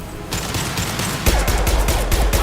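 Concussive shot ability firing in the Mass Effect video game, heavy booming blasts amid a dense barrage of rapid gunfire and impacts, loud and close, growing more intense halfway through.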